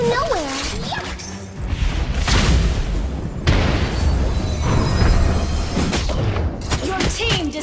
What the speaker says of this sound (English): Your team destroyed the turret.